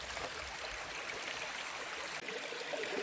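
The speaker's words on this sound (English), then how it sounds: "this part right here, running over rocks and stuff, you want to get it where the creek is alive" Creek water runs and trickles over rocks beside the Appalachian Trail, a steady close broadband rush with no break for the full length and no voices.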